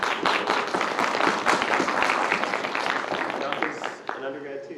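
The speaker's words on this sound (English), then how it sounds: "Will you guys give Priyanka a round of applause" Audience applause at a literary reading and conversation event, a dense steady patter of many hands clapping at close range, fading at the end as a voice begins to speak.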